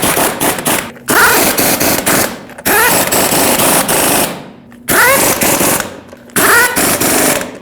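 Impact wrench running down the five lug nuts on a 2009-2010 Dodge Ram 1500 wheel in a cross pattern, three loud rattling hammering bursts of about a second or more each, separated by short pauses.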